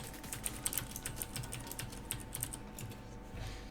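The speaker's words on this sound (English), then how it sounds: "I'm typing this out so you can read it." Typing on a computer keyboard during a Guild Wars gaming session, a steady patter of light clicky keystrokes in short uneven bursts, close and faint over a low constant hum, with no voices.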